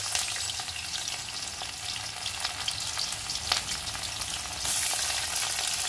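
Ginger and onion frying in a pan give a loud, dense, crackling sizzle throughout, with occasional stirring scrapes and a brief surge near the end, heard up close with no talking.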